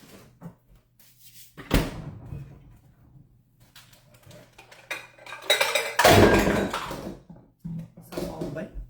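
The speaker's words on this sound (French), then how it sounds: "On échappe les tasses à mesure." While baking a banana brownie in a home kitchen, measuring cups and dishes clatter and knock in several loud bursts. A person talks throughout.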